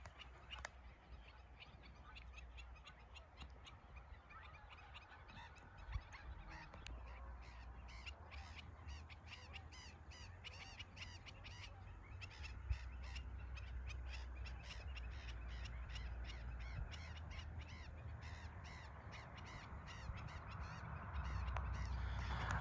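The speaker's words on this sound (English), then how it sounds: "Look at all these birds." A large flock of birds, goose-like honkers with crow-like caws among them, calls continuously at a moderate distance. The honks overlap densely and no voices are heard.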